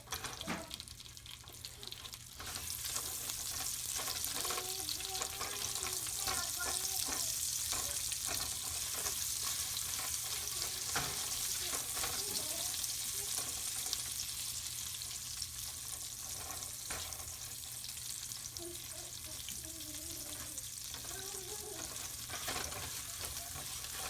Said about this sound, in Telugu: వీటిని కొంచెం దూరగా వేయించాలి ఉల్లిపాయలు వేగుతున్నాయి